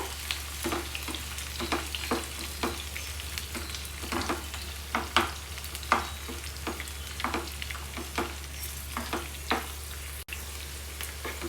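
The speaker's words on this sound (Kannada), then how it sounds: "ಮೊದಲಿಗೆ ನೀವಿಲ್ಲಿ ಈರುಳ್ಳಿ ಮತ್ತು ಗ್ರೀನ್ ಚಿಲ್ಲಿಯನ್ನು ಎಣ್ಣೆಯಲ್ಲಿ ಸ್ವಲ್ಪ ಬಾಡಿಸ್ಕೋಬೇಕಾಗತ್ತೆ" Onion and green chilli sizzle steadily in hot oil in a pan, with repeated scraping stirs every second or so over a constant low hum, close and alone without talk.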